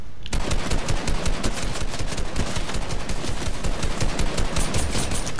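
Continuous rapid automatic gunfire in the battle royale video game Fortnite, loud and dense throughout after a brief quiet start, with no voices.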